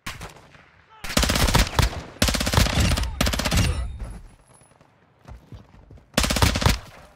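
Loud bursts of automatic gunfire from the video game Call of Duty DMZ, four long sustained volleys with short gaps, fading to quieter shots before a final burst.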